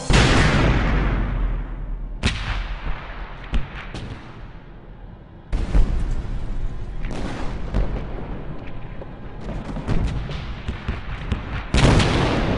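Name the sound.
World War II artillery barrage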